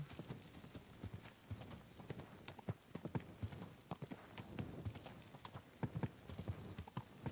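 Horse hooves clip-clopping at a steady walk in Kingdom Come: Deliverance II, a continuous run of soft, evenly paced hoof strikes over faint outdoor ambience.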